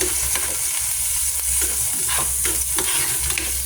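Garlic and onion sizzle steadily in a hot pan for chicken curry, with a constant frying hiss broken by scraping stirs of a utensil, close and loud, no voices.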